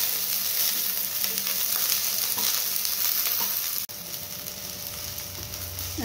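Onions sizzle steadily in a hot pan for chole, a loud, dense frying hiss with stirring scrapes and a brief dip near the middle.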